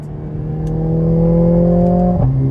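A Mercedes A45 S hot hatch with an eight-speed dual-clutch gearbox revs up loudly and steadily, then drops sharply into an upshift with a brief bark near the end, heard close with no talking.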